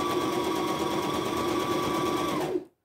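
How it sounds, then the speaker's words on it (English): A sewing machine runs a single steady line of stitching through a small fabric sachet, a close, continuous whirring drone that stops abruptly at the end. "I'm going to sew again. One line, and simple as that."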